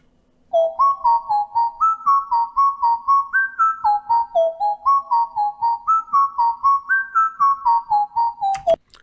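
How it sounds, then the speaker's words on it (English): A dry whistle lead synth with no effects plays a steady, bouncy melody of short repeated notes stepping up and down, clean and alone for several bars. "It's kind of like a whistle lead."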